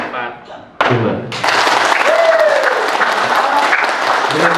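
Applause from an audience at a meeting of officials bursts out after a thump and a spoken count, swelling into sustained, dense clapping that continues alongside a voice.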